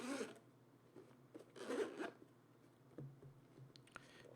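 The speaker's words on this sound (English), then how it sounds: "So we'll actually unzip this." A GoPro Hero 9 carrying case is unzipped in two quick, close rasping zipper pulls, each under half a second, with soft handling rustles between them.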